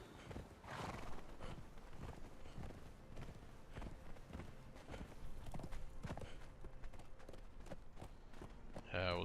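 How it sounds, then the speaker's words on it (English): A horse in a video game clip-clops along at a steady gait, with occasional whinnies over the hoofbeats, under a continuous game soundscape and faint talk. "Our horse is getting pretty excited about all this."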